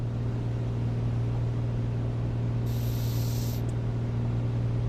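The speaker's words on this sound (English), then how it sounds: "But our engine sounds good." Steady piston engine drone of a Piper PA-24-250 Comanche in Microsoft Flight Simulator 2024, a constant low hum with a strong tonal band, heard alone and unbroken throughout.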